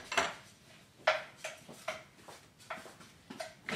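A spatula scrapes and taps against a pot while stirring tomato ketchup, making a run of quiet, uneven clinks and scrapes about half a second apart, close by.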